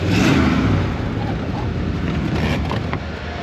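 A long-abandoned Chrysler Newport with a 383 engine driving through 5 o'clock rush-hour traffic: steady, loud engine drone and road rumble from inside the car, easing slightly after the first second.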